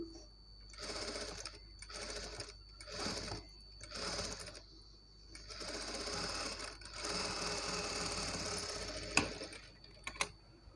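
A sewing machine stitches the back neck of a blouse in a series of short bursts, each a rapid clattering run separated by pauses, ending in a longer continuous stretch and a few sharp clicks.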